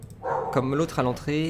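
A dog barks and yips several times in a room, sharp repeated calls close by, mixed in with a person talking.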